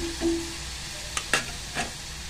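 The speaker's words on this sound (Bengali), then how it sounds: "এটাতে একটু ভালো করে নেড়ে নেবো। মশলাটা করতে থাকবো যতক্ষণ না তেল ছাড়ে।" Spice paste fries in hot oil with a steady soft sizzle, while a utensil gives a few brief scraping stirs close by.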